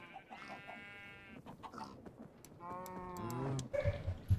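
Sheep in the game Minecraft let out two clear wavering bleats, one near the start and another a little louder around the middle, with faint clicks and game sounds between them.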